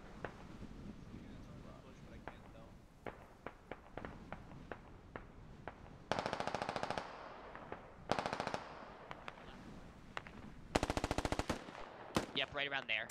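Bursts of machine gun fire from a military squad video game, several sustained volleys of rapid automatic shots between scattered single shots and background battle noise, with voices talking at times.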